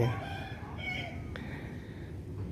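Geese and ducks call outdoors in a park-like setting, a run of harmonic honks and quacks at moderate distance over a steady outdoor background, with no talking.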